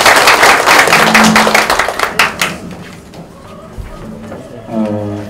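A crowd claps loudly at a Korean unification talk concert held outdoors by a bridge in Gwangsan-gu, welcoming the district mayor. The claps are dense at first and then thin out and die away, with a voice and faint tones following.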